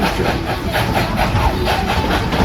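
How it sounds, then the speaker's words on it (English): A steam train on a heritage railroad rumbles steadily along the track, loud and continuous, with a faint repeating chuff and clatter running through it. "was soon joined by another steam locomotive, the number 190, which is helping Thomas pull our train today"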